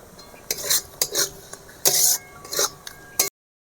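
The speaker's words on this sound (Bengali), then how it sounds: "আমি 200 গ্রাম টক দই দিচ্ছি।" A spoon clinks and scrapes against a pan in a few short, close bursts as 200 grams of beaten sour yogurt goes into prawn malai curry, with a quiet hiss between the knocks and no voices.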